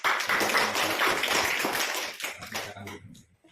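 An audience claps together at a school training session, a steady burst of hand clapping lasting a couple of seconds before it thins out and stops.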